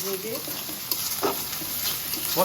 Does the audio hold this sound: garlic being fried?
yes